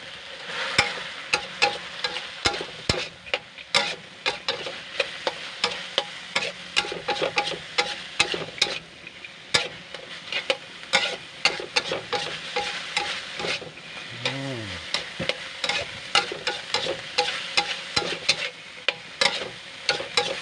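Thai holy-basil stir-fry with century egg sizzling in a pan as peanuts are added, with steady frying hiss and frequent scraping, clattering spatula strokes throughout.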